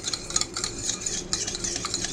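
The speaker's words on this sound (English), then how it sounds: "We're just going to sit there and give that a good stir." A fork stirs and whisks homemade Italian salad dressing in a bowl, giving a steady run of quick, close metallic scraping and clinking strokes with no talking.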